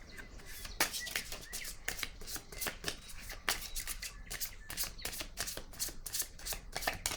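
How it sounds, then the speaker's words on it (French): Cards are handled during a card reading: a rapid, close run of papery flicks and snaps with sharp accents, steady throughout and with no talking. "Je vais déposer une carte ici."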